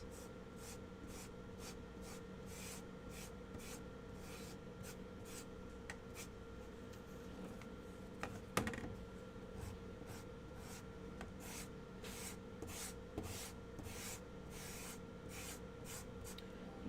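Sandpaper rubs over painted wood on an American flag DIY kit to distress the finish, a quiet run of steady back-and-forth strokes with no talking.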